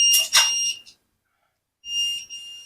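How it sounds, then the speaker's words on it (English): Two short bursts of a high electronic beep from a Bosch kitchen appliance, separated by a second of silence, loud and near. "these beeps that you get from this are because my Bosch is the worst piece of kitchen equipment"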